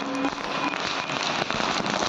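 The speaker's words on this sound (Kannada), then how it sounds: "ಅಲ್ಲಿಯೇ ಪಟಾಕಿ ಹೊಡಿತಾ ಇದ್ದಾರೆ" Firecrackers bursting near a temple during a consecration festival, a dense continuous crackling roar that fills the whole moment, loud and close, with no speech.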